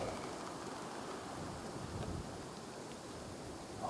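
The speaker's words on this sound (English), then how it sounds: "hopefully this wind dies down." Wind buffets a microphone outdoors in a small valley during a rifle deer hunt, a faint, continuous rushing roar with low gusty thumps and no voices.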